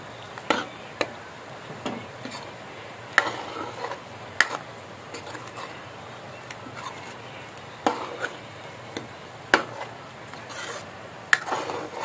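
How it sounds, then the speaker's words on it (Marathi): Precooked chicken tipped into a pan and stirred for a Malvani-style dry chicken dish, with scattered sharp clinks and scrapes of a utensil against the pan over a quiet background. "हे चिकन आपलं आधीच परतून उकळवून घेतलेलं आहे, ते ह्याच्यात टाकायचं।"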